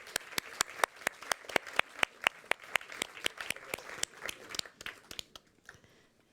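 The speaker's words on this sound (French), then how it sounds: "vous pouvez encore les applaudir" Scattered applause from a small crowd, sharp individual claps in an uneven rhythm that thin out and fade toward the end.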